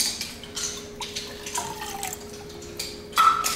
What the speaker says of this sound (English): We'll put our water in.